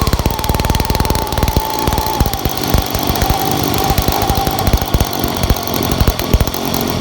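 A Stihl BG55 leaf blower, newly repaired after carburettor work, runs loud and close, its small two-stroke engine giving a rapid buzzing rattle with a steady drone throughout.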